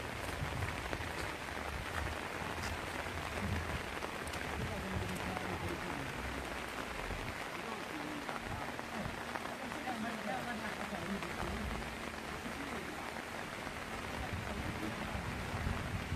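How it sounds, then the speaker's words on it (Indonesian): Steady rain falls on a road repair site where pipe welding has been halted, a continuous broadband hiss with low rumbles underneath, holding constant throughout at a moderate level. "Saat ini hujan turun terus, ya."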